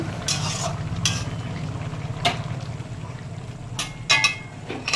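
Mutton and papaya curry bubbling in a wok, a steady low simmering hiss with occasional sharp scrapes and clinks of a spoon against the pan, close and moderately loud with no talking.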